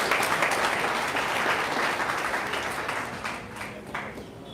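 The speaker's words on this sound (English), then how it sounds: "Can you clap for this company?" Sustained applause from an audience at a live wellness company event, steady and dense at first, then thinning slightly toward the end.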